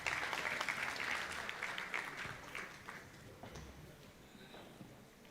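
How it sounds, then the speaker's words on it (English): An audience at a national journalism awards ceremony gives a round of applause, fairly distant and steady at first, then gradually thinning out and fading over several seconds. "A round of applause, please."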